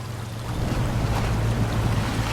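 Pickup truck easing into water in the off-road driving game SnowRunner, a steady low engine drone with sloshing, rushing water noise, close and continuous.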